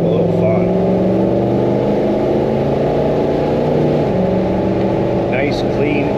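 A 1966 Ford Mustang Shelby GT350-H pulls away under steady acceleration, its engine droning loud and close with rising harmonics and a brief dip at a gear change, while a voice talks over it.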